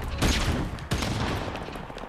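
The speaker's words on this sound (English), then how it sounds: "Tossing flashbang." A thrown flashbang grenade bursts amid gunfire in Call of Duty: Modern Warfare Remastered, with two sharp loud cracks and a rattle of shots between them, close and punchy.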